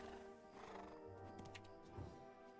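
A horse in the online role-playing game Black Desert Online neighs and whinnies, with hoof clip-clops underneath, fairly faint and alone.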